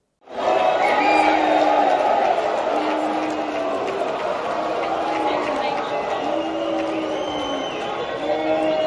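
A crowd of mayors at a gathering in Brasília cheers and gives an ovation for Jair Bolsonaro, a loud, sustained roar of shouting voices that holds steady for several seconds with rising calls within it.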